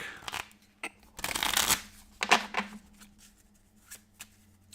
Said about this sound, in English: we will shuffle up the deck